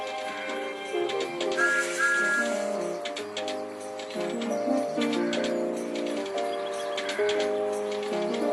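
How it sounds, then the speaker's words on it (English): A tonal, musical steam train whistle from a Thomas the Tank Engine video game, with melodic held notes over background music, bright, continuous and cartoonish. "This is Thomas's whistle."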